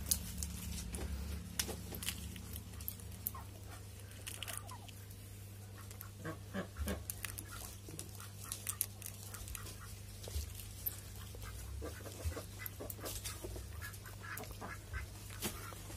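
Ducks on an Indian turkey farm, among turkeys and Kadaknath chickens, quack repeatedly in overlapping bursts over a steady low hum, fairly close and with no one talking.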